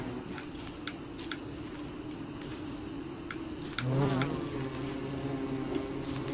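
Buzzing of an angry bee in Don't Starve Together: a low, continuous hum under scattered ticks, swelling louder near the end and then droning on steadily.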